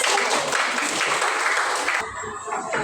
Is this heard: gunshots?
no